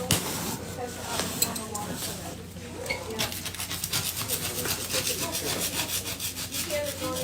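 A soft plastic spackling tool scrapes barnacles off a sea turtle's shell, making close, rasping strokes that grow into a quick, regular back-and-forth rhythm, with a voice heard at times.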